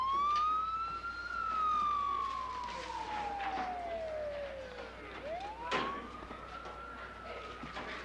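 A siren wails with slow rising and falling sweeps, moderately loud and fairly steady, with a brief sharp burst of noise partway through.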